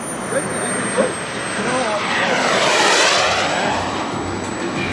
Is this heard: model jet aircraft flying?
yes